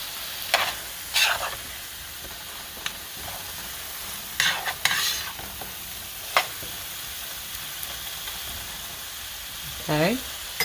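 Lamb chops sizzling in a pan while being basted with a honey and garlic mixture, a steady low fry broken by sharp spoon scrapes and clinks.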